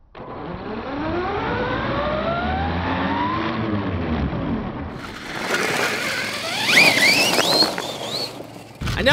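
A Losi King Sling 4S R/C mega truck driving, its electric motor whining up and down in pitch, then tires skidding and squealing as it rotates, close and loud.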